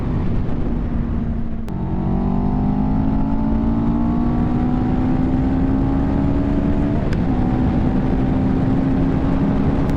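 A 2023 CFMoto 700CL-X motorcycle engine drones steadily while riding, its pitch climbing gradually through gear changes, with brief clicks at shifts and constant wind noise underneath.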